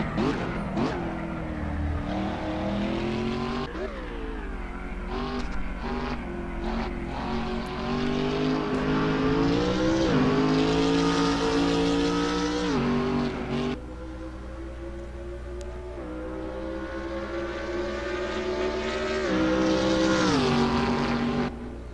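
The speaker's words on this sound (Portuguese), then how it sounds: "Vamos conferir como foi a nossa volta rápida no Assetto Corsa com a BMW Z4 GT3." BMW Z4 GT3 racing a fast lap in the Assetto Corsa driving game on a dedicated server, its loud close engine revving hard through repeated upshifts and downshifts with sustained high-pitched roar and no talking.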